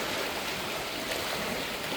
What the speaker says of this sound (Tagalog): Andito kami ngayon sa dagat